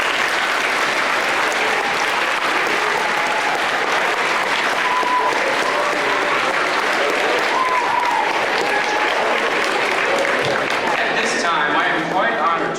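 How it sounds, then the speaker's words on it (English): A crowd applauds continuously at a school Veterans Day assembly, dense and steady clapping filling the space, with a few voices faintly underneath. "Let's give ourselves a round of applause."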